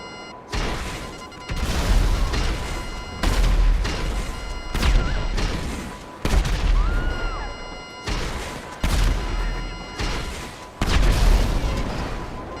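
Missiles detonating in GTA 5 Online, a series of roughly six loud, evenly spaced booms with crashing tails and a faint steady tone running underneath, no talking.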